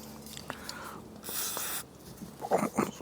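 Brake cleaner sprayed onto front brake pads from Ford Sierra calipers on a Grinnall Scorpion kit car, a short close hiss lasting about half a second, followed by light handling clicks.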